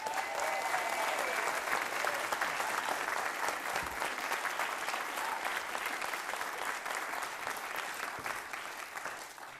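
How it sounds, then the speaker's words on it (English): Sustained crowd clapping welcomes new parliamentary candidates at a Labour race and faith manifesto launch, a continuous dense wash of applause lasting nearly ten seconds and slowly thinning toward the end. "But let's have applause for our new candidates."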